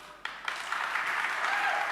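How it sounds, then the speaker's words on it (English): An audience at the Goafest 2018 event breaking into applause, starting abruptly and swelling into sustained clapping from a crowd. "Did you all clap for her?"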